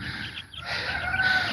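A bantam rooster penned with young chickens on a farm gives a fairly loud, continuous crow-like call, with clucking and bird noise blending around it and no talking.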